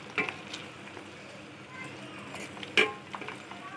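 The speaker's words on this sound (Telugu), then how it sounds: "ఇలా వేసుకున్న తర్వాత ఒకసారి మనం ఇలా స్పూన్తో ఇలా కలుపుకోవాలి మొత్తం." A spoon stirs a homemade hibiscus oil mixture in a pan, giving a soft, continuous scraping sizzle with a couple of sharper clinks of metal against the vessel.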